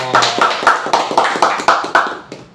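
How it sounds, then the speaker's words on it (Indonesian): Regular claps from a studio audience at the opening of an Indonesian podcast talk show, about nine sharp beats in steady rhythm, close and fairly loud, with no talk over them. "Lebih tepuk tangan dong"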